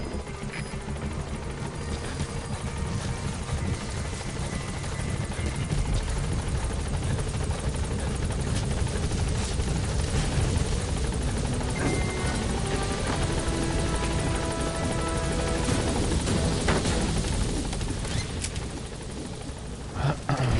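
A support helicopter in the video game Metal Gear Solid 5 arrives at a landing zone, its loud, steady rotor roar and engine whine filling the clip without a break while a radio voice speaks faintly beneath it.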